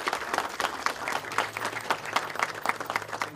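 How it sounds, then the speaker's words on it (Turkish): Steady audience applause fills a workshop opening gathering in Denizli, a dense patter of many hands clapping at an even level throughout with no voices standing out. "Kendilerine büyük bir alkış."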